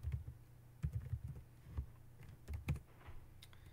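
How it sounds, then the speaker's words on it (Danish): Soft keystrokes on a computer keyboard as a password is entered, coming in short irregular bursts of clicks that are quiet and close, with no talking. "og skriver kodeord."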